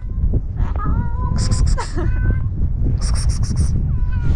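A kitten meows repeatedly outdoors in Ossetia, several high, strained cries coming in two bursts, heard close and loud over a steady background rumble.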